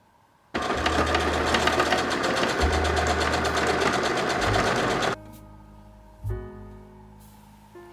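Steady, close whirring of a sewing machine stitching the shoulder seams of dress facings for about five seconds, then it stops, leaving faint mechanical clicks and a brief thump.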